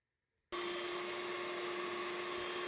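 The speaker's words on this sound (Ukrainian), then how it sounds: "Починаємо збивати зараз яйця." Electric mixer starts abruptly and runs steadily, whirring loudly as eggs are beaten for paska dough, a steady close hum with no voices.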